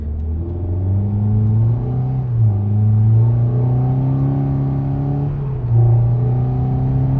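A 2021 Toyota Corolla SE 2.0L engine with an AEM cold air intake revving at half throttle, a loud close steady hum with rising and falling pitch through several sustained pulls.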